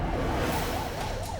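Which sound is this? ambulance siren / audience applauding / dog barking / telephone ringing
ambulance siren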